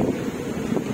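Strong typhoon wind buffets the microphone in Cabanatuan during Super Typhoon Karding, a steady loud roar with no break.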